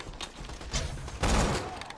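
Gunfire in the video game Borderlands against a bullymong: a few scattered shots and thumps, ending in a louder burst of rapid fire up close.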